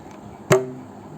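A mridangam num stroke, a single flat, damped hit played with the index finger while the ring finger rests on the drum head, giving a short, close attack with a brief ringing decay and no talk.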